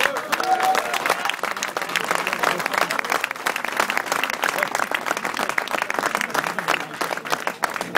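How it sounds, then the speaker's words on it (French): At a refinery workers' general assembly, a crowd applauds a list of named people with lively, uneven clapping, individual claps standing out sharply in a roomy space, sustained for about eight seconds. "On peut les applaudir"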